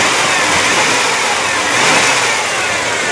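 A 1997 Chevy C1500 pickup engine, misfiring and likely needing plugs and wires, runs loud and close with steady revving and no voices over it.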